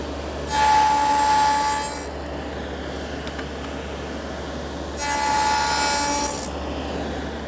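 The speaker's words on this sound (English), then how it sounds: "I've widened the dado, installed a sacrificial fence, and it's just a matter of a pass on each side to make that tongue" A table saw fitted with a widened dado blade and a sacrificial fence cuts a tongue in wood in two separate passes, each a loud sustained whine over a steady motor hum, with no talking.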